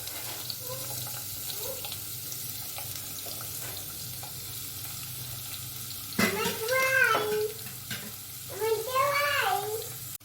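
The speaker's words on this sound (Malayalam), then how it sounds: "ഞാൻ ഒരു സവാള അരിഞ്ഞതുകൊണ്ട് ഇത് നമുക്കൊന്ന് വരട്ടിയെടുക്കാം." Chopped onion sautés in a pan for a spicy potato samosa filling, a steady low sizzle with occasional stirring scrapes, while brief voices break in near the end.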